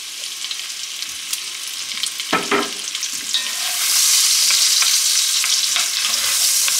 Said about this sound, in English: now we're actually just going to brown up our vegetables a little bit